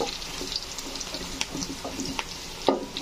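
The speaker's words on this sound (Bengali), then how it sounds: "সরষের তেল দিয়ে রান্না করতেছি। এখানে পেঁয়াজ বেরেস্তা দিয়েছি।" Onions sizzle and fry to a crisp in frothy pure mustard oil, with a close, continuous crackle and occasional clinks.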